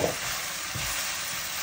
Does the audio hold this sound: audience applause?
no